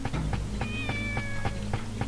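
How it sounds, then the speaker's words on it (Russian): A kitten in the video game Shenmue meows over and over in short, evenly spaced cries, heard clearly over a steady hum and soft game tones. "О, уже поела, опять мяукает."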